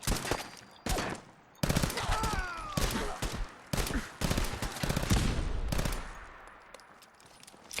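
Explosive pistol fire in Fallout 4, sharp loud bursts and rapid volleys with blasts in between, spaced out in irregular clusters, with a voice talking over some of the shots.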